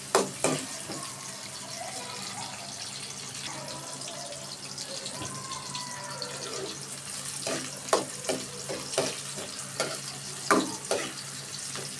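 Onions frying in a pan for a green bean and potato stir-fry, stirred with repeated sharp scrapes and clacks of the spatula over a steady background hiss, close and fairly loud.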